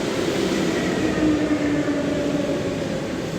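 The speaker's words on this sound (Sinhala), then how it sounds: "ඔන්න ඉතින් මගේ දුම්රිය පැමිණෙනවා." A train rumbles steadily into a station, a constant low roar with faint metallic wheel tones running underneath, close and continuous throughout.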